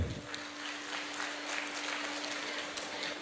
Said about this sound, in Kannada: ಒಂಜಿ ಜೋರ್ದಾರ್ ಚಪ್ಪಾಳೆ ಬೊಟ್ಲೆ